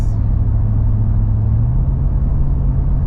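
A 2023 Ford F250 Super Duty with its 7.3L Godzilla engine towing through city traffic, a loud steady low rumble from inside the cab with a subtle pitch shift as the transmission changes gears, no talking.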